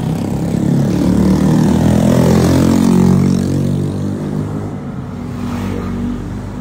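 A Hyundai Starex van with a turbo engine on a road test, the engine droning and revving up under load with a rising then falling pitch, close and steady throughout with no talk.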